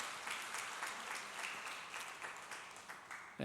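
Applause from a church congregation at Suan Church, a steady wash of many hands clapping at moderate distance for a few seconds, ending with a brief louder thump.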